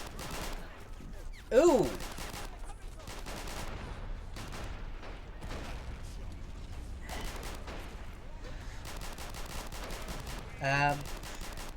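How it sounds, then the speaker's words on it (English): Rattling bursts of gunfire from the Army Men of War strategy game, a battle between Green and Blue toy-soldier armies, with dense crackling volleys running through most of the clip and someone speaking briefly over it. "the Blues have started firing"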